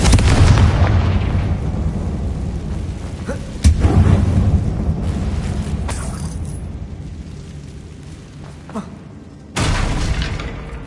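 Confringo blasting spell erupts inside a closed mine in Hogwarts Legacy, a heavy boom at the start, another sharp blast midway and a third burst near the end, each trailing into rumbling debris.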